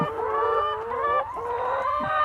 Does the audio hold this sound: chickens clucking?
yes